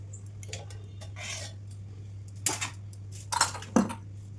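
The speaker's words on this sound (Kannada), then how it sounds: "ಹೆಚ್ಚಿಟ್ಕೊಂಡಿರೋ ತರಕಾರಿಗಳನ್ನೆಲ್ಲ ನಾನು ಒಂದು ಬಟ್ಲಿಗೆ ಹಾಕ್ಕೊತಾ ಇದ್ದೀನಿ ಈ ರೀತಿ." Chopped bhelpuri vegetables are tipped into a bowl, giving a few light clinks and soft rustles spread across the moment, with a sharper cluster of taps near the end over a steady low hum.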